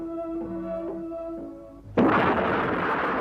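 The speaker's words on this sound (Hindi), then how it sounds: "झांसी की प्रसिद्ध तोप घन गरज ने अंग्रेजों की सेना पर गोले बरसाने शुरू किए" A cannon blast: a sudden loud boom after a steady tonal passage, followed by a sustained heavy roar that continues to the end.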